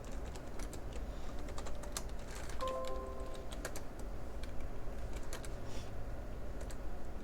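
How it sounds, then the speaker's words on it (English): Fingers type a password on a computer keyboard during a PC build, producing a run of quick, light key clicks close by over a steady background hum, with a brief electronic beep partway through. "Because I'm typing in my password."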